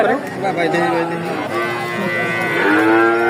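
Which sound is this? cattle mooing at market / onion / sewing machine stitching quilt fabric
cattle mooing at market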